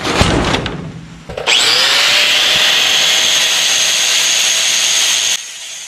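A cutting wheel bites into car fender sheet metal in a garage, giving a loud, sustained high-pitched grinding whine for several seconds after a brief rough start, then stopping abruptly.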